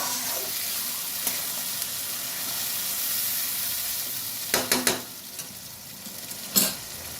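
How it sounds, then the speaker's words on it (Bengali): Spices with tomato paste fry in a pan for a vola fish curry, giving a steady sizzle broken by a cluster of loud spatula scrapes and knocks, then one more near the end. "ভালো করে মশলাগুলো ভাজা ভাজা করে নেব।"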